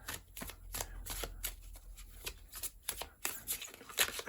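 A deck of oracle cards is shuffled by hand, a quick run of crisp riffling flicks and slaps, close and fairly quiet, with no talking.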